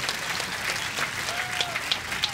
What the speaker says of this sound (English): Even Melissa McCurley applauding that one.